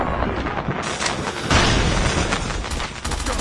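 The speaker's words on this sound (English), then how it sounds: "Predator missile." A Predator missile explosion in the Call of Duty Mobile video game, a loud booming blast amid dense gunfire and rapid shots that keep a thick, continuous rumble throughout, with no voices over it.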